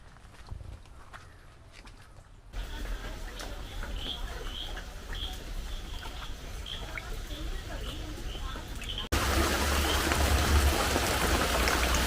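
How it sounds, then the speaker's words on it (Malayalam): Rain falling steadily outdoors at a home with a new chicken coop, a soft patter that grows denser and louder toward the end, with faint footsteps and distant bird calls. "മഴയുണ്ട്"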